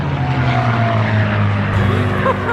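A racing airplane at the Reno Air Races flies low past the crowd, its loud propeller engine drone roaring close by and shifting in pitch as it passes.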